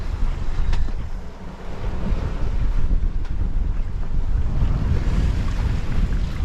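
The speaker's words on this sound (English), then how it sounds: "The wind did come back." Wind at sea aboard a sailboat crossing the Pacific, a steady, loud rush buffeting the microphone with low rumble and faint water wash, and no voices.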